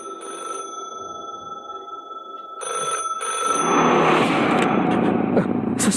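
A telephone bell rings in repeated bursts, loud and close, in a tense horror scene. A heavy rushing, rumbling noise rises over it partway through, with no one speaking.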